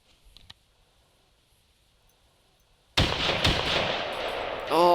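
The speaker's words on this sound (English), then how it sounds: "Oh, now that's a good rifle." Rifle gunfire rings out in the hunting video game Carnivores Modern Days: a sudden loud blast followed by sustained rapid firing and echoing reports, with a brief metallic sweep near the end.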